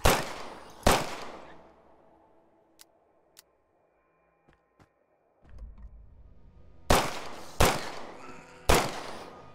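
Gunfire in the zombie survival game The Last Stand Aftermath: sharp, loud single shots, two at the start and three spaced shots near the end, with faint clicks and a low rumble between.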